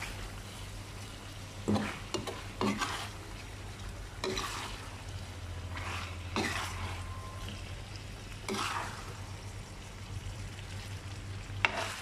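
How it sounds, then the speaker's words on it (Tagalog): Food stirred and mixed in a frying pan, a soft constant sizzle beneath repeated scraping and clattering strokes of a utensil, close and fairly quiet. "Tapos nahalo-halo. Halo-halo."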